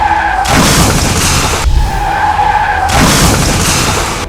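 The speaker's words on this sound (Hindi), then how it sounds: "कार आई और सीधे किनारे खड़ी कार से जा भिड़ी।" A speeding car slams into cars parked along a busy market road, producing loud sustained rushing, skidding noise in two long surges with a brief dip between, close and dominant with no speech.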